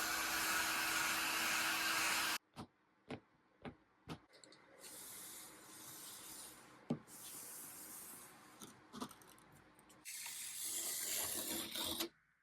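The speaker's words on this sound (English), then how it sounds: "I dried the glue with my heat gun to speed up the process" Heat gun drying veneer glue on a bedside table shelf, a loud airy blowing hiss that cuts off, followed by sparse knocks and clicks, then the blower roars again briefly near the end.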